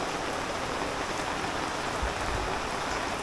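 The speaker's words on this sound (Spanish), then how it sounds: "con esta lluvia, después de tantos meses de no lluvia" Steady rain falling after months without rain, a dense continuous hiss of drops on surfaces with no voices.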